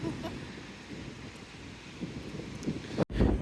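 Gusty wind blowing across the microphone on a Fuengirola seafront in January, a low rumbling roar that rises and dips, with a sharp brief dropout near the end.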